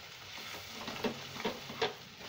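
Ground matar dal ball mixture frying in a pan: low continuous sizzle broken by three or four light stirring taps and scrapes, close by and quiet.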